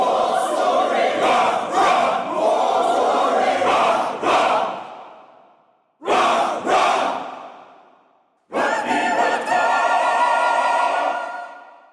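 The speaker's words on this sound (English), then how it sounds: "make it sound more like literally a crowd in a stadium" Layered group vocals mixed to sound like a stadium crowd, loud massed chanting and shouting cut off in three bursts, each swelling and then fading out.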